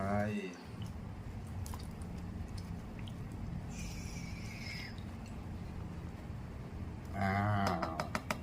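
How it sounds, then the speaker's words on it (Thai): Thick boxed coconut cream, about 250 grams, poured into a mixing container, giving a continuous dense wet gush with some drips and squishy liquid noises, close and fairly loud throughout. "อ้าวแล้วก็ใส่หัวกะทิครับผม สองร้อยห้าสิบกรัมเป็นกะทิกล่องครับผม เทลงไป"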